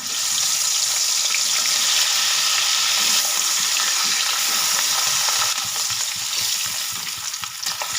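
Hilsa fish lightly frying in mustard oil, a loud continuous hiss and crackle of hot oil that stays dense and even throughout, with faint scraping underneath.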